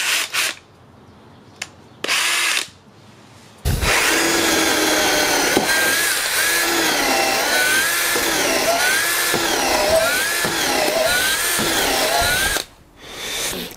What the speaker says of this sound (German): Ja, also es ist ein Bohrer, er bohrt, es ist natürlich ein Metallbohrer